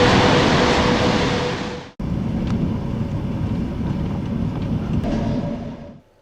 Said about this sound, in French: Nous allons continuer vers l'est avec cette locomotive diesel